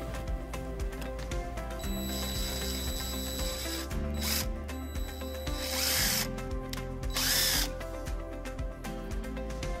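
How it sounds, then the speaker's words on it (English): A power drill boring a hole during a wiring harness installation on a 2018 Mitsubishi Outlander, its motor whirring steadily with ratcheting, clicking mechanical noise and a few brief surges in pitch, with no voices. "And then we'll drill our next hole."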